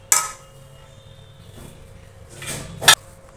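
A spoon clinks against a cooking pot while ginger-garlic paste goes into a methi creamy chicken dish: one sharp metallic clink at the start, then two more close together near the end, with quiet kitchen background between them.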